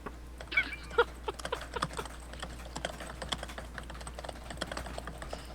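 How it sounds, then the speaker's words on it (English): Rapid, forceful typing on a computer keyboard, a steady stream of clattering key taps with occasional louder strikes, close and continuous with no talking. "There's a lot of ferocious typing."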